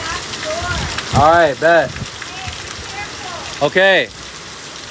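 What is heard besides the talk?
very heavy rain during Hurricane Helene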